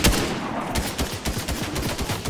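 Rapid, loud gunfire in Fortnite aimed at a tower rattles out as a dense burst of repeated shots with no pause across the whole moment.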